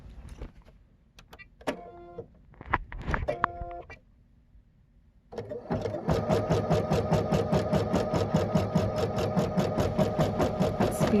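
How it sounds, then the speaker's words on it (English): Bernette embroidery machine stitching a teddy bear: a few short mechanical bursts and clicks, then a steady fast needle chatter running continuously, close and fairly loud. "So you can see that it's a great little embroidery machine."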